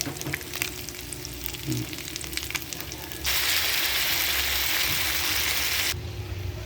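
Onion, garlic and tomato sauce cooking in butter in a pan, sizzling steadily, with the frying hiss swelling louder midway and then easing back, heard close and alone.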